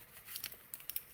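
Ribbon scissors snipping through ribbon, a few quiet, crisp cuts spread across a moment, close by in a silent room.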